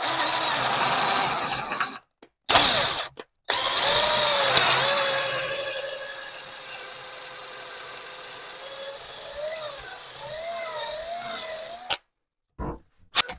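A PWK carburettor being drilled out to 4 mm: close bursts of high-pitched drill whine separated by short silences, then a longer winding-down tone with wavering pitch before stopping.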